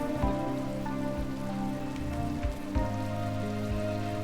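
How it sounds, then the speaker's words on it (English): Steady rain pattering on the ground in the colony-building game Rimworld, a continuous hiss of drops with soft in-game music tones layered underneath, even and unbroken throughout. "it's raining, that's good."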